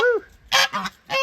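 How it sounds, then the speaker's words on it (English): Geese being let out of their cage honk loudly and close by, a short run of three or four brassy, nasal calls in quick succession. "The geese are happy. I finally brought some lettuce home for them. Listen to the happiness in their voices."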